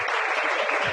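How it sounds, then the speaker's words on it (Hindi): An audience's applause, a loud, continuous wash of many hands clapping together that lasts the whole brief moment without a break. "इनके लिए जोरदार तालियां प्लीज।"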